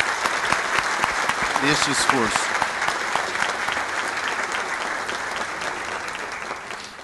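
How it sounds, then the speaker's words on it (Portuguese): Sustained audience applause at a rural congress panel, dense clapping throughout that gradually fades toward the end, with a brief spoken phrase over it near the start. "pedir uma salva de palmas para todos esses colegas"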